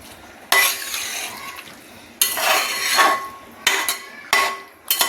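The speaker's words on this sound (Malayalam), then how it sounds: "ചെറുതായിട്ടൊന്ന് ഇളക്കി കൊടുക്കട്ടെ" Biryani rice is stirred in a pot in short bursts, scraping and clinking spoon strokes against the pot separated by near-silent pauses, close and fairly loud.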